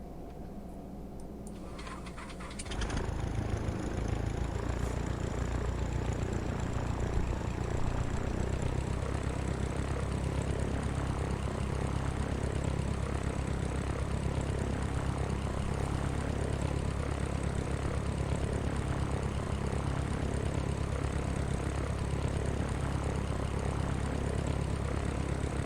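Propeller airplane engine in Sierra Pro Pilot 98, starting after a quiet moment and settling into a loud, steady drone with deep low rumble that holds for the rest of the stretch.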